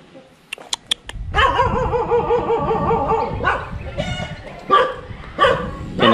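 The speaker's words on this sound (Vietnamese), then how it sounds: "Đây con chó." A dog at a rural old-style house in Long An, in the Mekong Delta, gives a burst of close, loud barks, then whines and yips. More scattered barks follow over the next few seconds.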